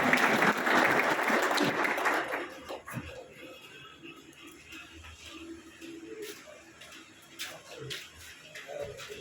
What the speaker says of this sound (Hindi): तालियों की गूंज में जनाब इस्तकबाल करें